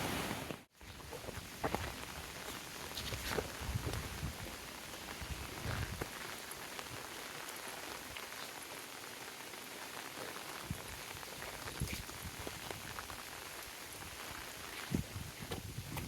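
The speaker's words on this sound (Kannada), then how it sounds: "ಮಳೆ ಮಳೆ ಮಳೆ ಮಳೆ ಮಳೆ ಮಳೆ." Steady rain pours through the forest at Bisle Ghat, a dense, even patter of drops on leaves and ground that holds throughout, with an occasional closer splash.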